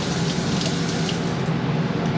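Tap water runs steadily from a pull-down, switchable-spray kitchen sink faucet in a fifth wheel RV, a continuous broadband splashing rush with no breaks and no voices.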